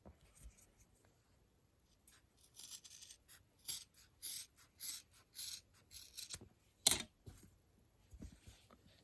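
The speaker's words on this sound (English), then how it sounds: "I'm going to cut this part out." Scissors snipping through the fabric of a bra being cut apart to make a face mask, a run of close, crisp cuts in uneven bursts with quiet pauses between them and no talking.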